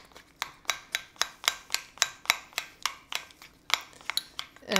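A spoon repeatedly scrapes and clinks against a bowl while lemon yellow and blue gel colors are stirred into royal icing, about twenty close, crisp, evenly spaced strokes with no talk.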